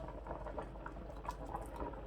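Jaggery rice simmering under a lid in a covered pot, a steady close bubbling patter with soft pops running continuously and evenly throughout, no voices.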